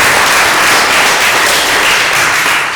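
A loud, dense round of applause from an audience for the Secretary of the Auroville Foundation, steady sustained clapping filling the whole stretch without any voices.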